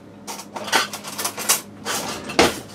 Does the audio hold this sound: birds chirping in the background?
no